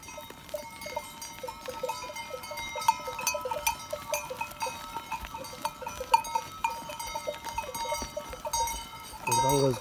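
Many small bells clank and jingle irregularly as a flock moves along, with occasional sheep bleats and wind rumbling in the background.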